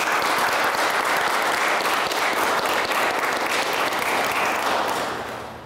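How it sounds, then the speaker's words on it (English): Applause from an audience at a press conference fills several seconds as a dense, even wash of clapping, then fades toward the end. "give the volunteers from Be Smart, another round of applause"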